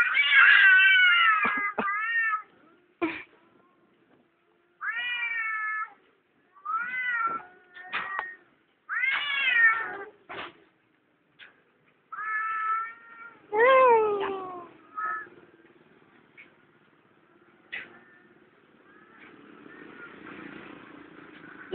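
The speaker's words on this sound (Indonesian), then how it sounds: "sabung kucing" Cats yowling and caterwauling in drawn-out, wavering cries, several loud bursts with short pauses between, ending in hissing and growling, close by.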